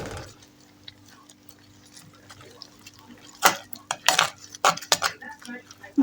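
A metal utensil stirs a vegetarian curry dish in a pot, quiet at first, then sharp clinks and scrapes come in quick irregular bursts during the second half, close and fairly loud.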